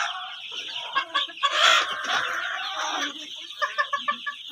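Fayoumi chickens on a farm in Rangpur, clucking in short rapid bursts with one louder, longer squawk, close by and moderately loud, without speech.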